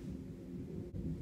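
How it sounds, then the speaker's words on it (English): Distant thunder rumbling low under steady heavy rain during a storm, a faint continuous wash with no talking. "just ignore the thunder and the rain that's pitter-pattering very loudly in the background"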